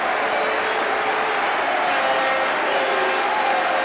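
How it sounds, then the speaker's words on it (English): Crowd applause and cheering from Crystal Palace fans behind the goal for goalkeeper Perry Suckling at a 1988 football match against Blackburn Rovers, a dense, steady roar of stadium noise throughout. "So applause, as you can see, from the Palace fans behind that goal for their goalkeeper Perry Suckling."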